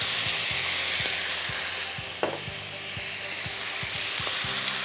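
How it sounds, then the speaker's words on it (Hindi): Turmeric, coriander powder and cumin powder dropped into a pan for chicken jalfrezi, steady close sizzling and frying with light spoon taps against the pan throughout. "फिर इसमें हल्दी जाएगी, फिर इसमें आप धनिया पाउडर और ज़ीरा पाउडर डालेंगे।"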